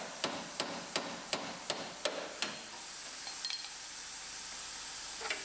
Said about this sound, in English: a lot more hammering